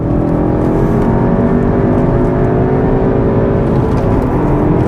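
A Cupra car's engine drones loud and steady at high revs on a race track, chasing a 400 horsepower Audi RS3 in a drag race, a continuous close whir with no break.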